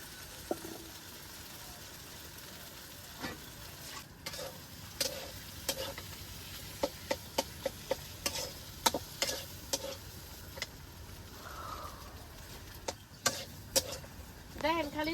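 Potatoes being stir-fried with spices in a pan, a low sizzle under frequent spatula scrapes and clicks against the pan, with a faint voice now and then.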